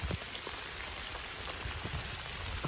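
Rain falls steadily on an Olight flashlight outdoors, a dense, close patter of drops with a few louder taps and no voices.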